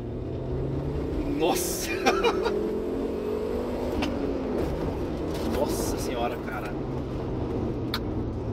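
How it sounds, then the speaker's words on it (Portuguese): Fiat Marea 2.0 20v turbo five-cylinder car accelerating in second gear, a steady engine drone with a rising tone heard from inside, with a man exclaiming over it. "Aí eu vou dar uma pequena acelerada na segunda."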